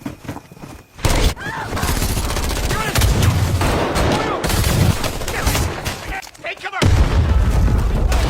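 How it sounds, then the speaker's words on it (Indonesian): Gunfire in an action film scene with elite troops pinned inside a house, dense rapid volleys and booming shots roaring almost without pause, loud and close, with brief lulls between bursts. "terus menggempur mereka dengan tembakan"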